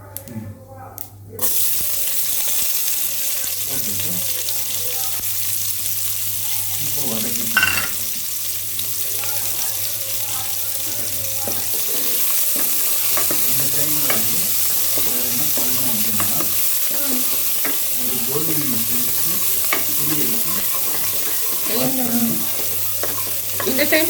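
Onion and curry leaves fry in a hot pan, giving a continuous loud sizzle with scraping stirring strokes throughout and a few brief clatters.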